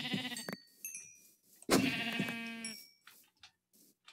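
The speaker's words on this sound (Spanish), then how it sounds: "¡Oh! Ovejas." Sheep in a video game bleat in two clear calls, a short one at the start and a longer wavering bleat midway, with faint clicks between them.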